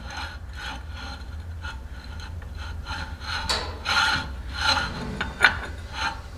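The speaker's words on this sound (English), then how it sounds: "I can hear it scraping in there" A Kennedy stage 2 clutch pressure plate for a Type 1 Beetle, mounted on a transmission input shaft, scrapes and rasps while spun by hand, with gritty rubbing bursts that swell and fade in uneven strokes, close by.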